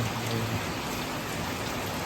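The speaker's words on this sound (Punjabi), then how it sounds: "ਮੀਂਹ ਦੇਖੋ" Heavy rain pours down in Punjab, a dense, steady hiss of drops drumming on surfaces, continuous and even throughout with no voices.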